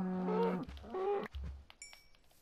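Cows moo twice in the video game Minecraft, two short close lowing calls in quick succession, fairly quiet and alone, followed by a faint chime.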